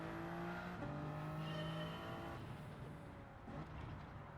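Race car engine in Gran Turismo 7 climbing steadily through the gears, with shifting engine tones rising and dropping as it slowly accelerates out of a corner, loud and continuous throughout.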